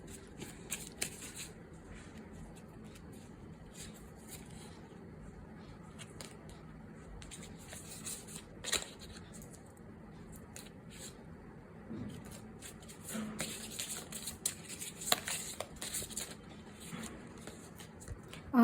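Oracle cards are shuffled quietly and continuously, with soft riffling and sliding strokes close by and a few sharper flicks toward the end.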